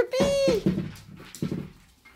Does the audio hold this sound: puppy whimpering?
yes